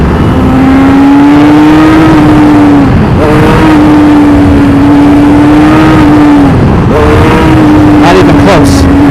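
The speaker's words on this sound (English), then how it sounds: "got really shameful attempts at clutch up wheelies in second gear" A motorcycle engine revs hard in second gear during clutch-up wheelie attempts, a loud close drone that holds, drops briefly, then surges again, with voices faintly present.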